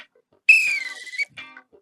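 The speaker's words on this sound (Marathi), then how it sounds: "शिट्टीचा आवाज येतोय" A single person whistles a short, bright, tonal phrase, sliding slightly downward, followed after a brief pause by a shorter second whistle, clear and close against otherwise near silence.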